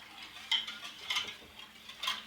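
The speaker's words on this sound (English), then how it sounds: "So we just whisk away." Whisking macaroni and cheese sauce in a pot, heard as faint, light metallic ticks that come roughly every half second, about three or four taps in a quiet kitchen with no talking.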